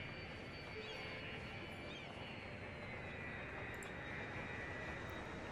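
An airliner takes off in the Cities: Skylines city-building game, a steady broadband engine roar that holds evenly throughout at a moderate, distant-sounding level with no breaks.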